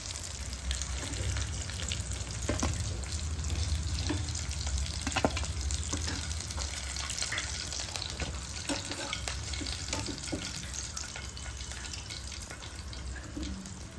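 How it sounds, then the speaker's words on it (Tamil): Fish frying in a pan for a Tamil-style fish fry, a steady close crackling sizzle with scattered pops and stirring clinks throughout, no voices. "ஃபிஷ் நல்லா இப்போ குக் ஆகிடுச்சு. இப்போ நம்ம எடுத்துடலாம்."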